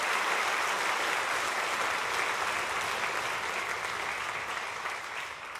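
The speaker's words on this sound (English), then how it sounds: "How about another round of applause for all of them" Steady applause from a concert audience for young junior high musicians at a summer music camp, dense even clapping that tapers slightly toward the end, with no talk over it.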